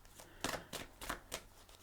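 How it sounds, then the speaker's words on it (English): A deck of tarot cards being shuffled by hand in a quiet room, several quick riffling bursts close and soft, with no talking. "I'm going to go ahead and give it a few shuffles"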